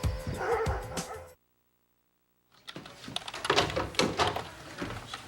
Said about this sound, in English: Oh my God, security let out the dogs.